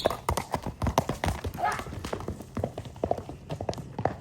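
Hooves of a five-year-old horse clip-clop rapidly and steadily on the ground, close and fairly loud, with scattered voices of people in the background.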